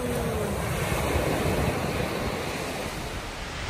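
Steady roar of sea waves and surf at the seaside with wind buffeting the microphone, continuous and fairly loud, no voices.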